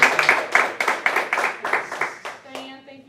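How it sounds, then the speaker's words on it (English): Several people clap briefly at a meeting, a short cluster of close hand claps that quickly thin out to a few last claps, with a faint voice near the end. "so let's give Stephen applause"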